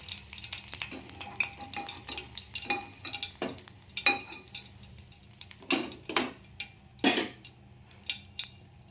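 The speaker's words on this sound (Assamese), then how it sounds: "মাছ কেইটামান ভাজি আছোঁ" Fish fries in a pan of hot oil at a home kitchen. A quiet, steady sizzle sits under sharp utensil scrapes and stirring clinks that come at irregular intervals.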